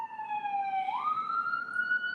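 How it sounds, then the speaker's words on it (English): A wailing siren rises and holds a steady high tone, sounding at moderate distance, continuous with no talking over it. "Y'all hear them sirens?"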